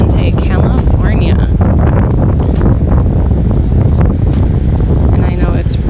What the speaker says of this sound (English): I know it's really windy, so I apologize